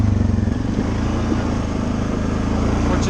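A Suzuki KingQuad 750 ATV engine running with a shim fitted, a loud close steady idle with a fast pulsing thrum that holds even throughout, and no speech.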